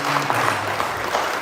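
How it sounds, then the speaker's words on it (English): An audience at a live event applauds. The clapping is dense and steady, close and loud throughout, with no voices on top. "Can we escort her with a round of applause?"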